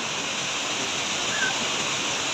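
Rushing water of Hinguiwin Falls in Padre Burgos, Quezon: a steady, loud, unbroken roar of falling water with no voices.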